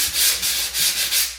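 Close, rhythmic back-and-forth rasping of sandpaper on a drywall corner bead, about five quick strokes with no talking.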